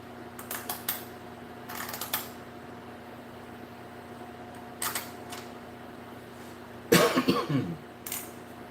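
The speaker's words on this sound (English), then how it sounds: "Ah, the cough that keeps on giving." A single harsh cough rings out after a stretch of quiet clicks and faint humming, followed by a softer catch of breath.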